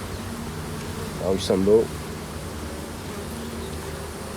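Honeybees buzz at an open hive during an inspection, some lying dead in the comb cells, with a steady soft drone that swells briefly louder as a bee passes near, under a short spoken remark.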